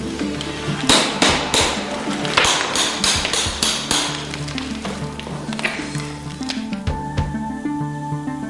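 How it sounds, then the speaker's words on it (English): Chisel and mallet knocking plaster waste molds off a sculpture, blue plaster layer emerging beneath; a steady run of sharp, close metallic impacts and crumbling chips, loud and irregular throughout. "As the mold maker chisels deeper, the blue layer of plaster appears."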